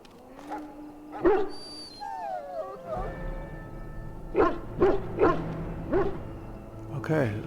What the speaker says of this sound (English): Okay, let's put the muzzle on the dog.